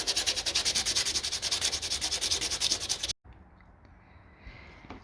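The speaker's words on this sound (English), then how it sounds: "Then sand it again with 180." Steady back-and-forth rasp of 180 grit sandpaper sanding body putty over a patched hole in a car, rhythmic strokes for about three seconds that stop abruptly, leaving quiet room noise.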